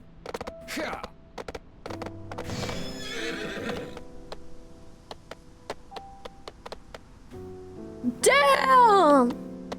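Horse neighs and whinnies with clip-clop hooves in a video game closed beta as the mount drifts through a city; a loud, rising-and-falling whinny near the end follows scattered hoof clicks and creaks, with a voice talking over parts.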